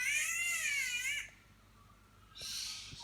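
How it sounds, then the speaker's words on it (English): An Australian catbird calls near a front door, giving a loud, wavering cat-like yowl, a pause, then a second similar wail, with no talking. "Sveno, Mick, just listen to that catbird"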